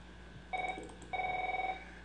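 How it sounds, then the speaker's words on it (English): House telephone ringing indoors, two electronic trilling bursts separated by a short pause, fairly clear over a low background hum. "And the house phone rings like always."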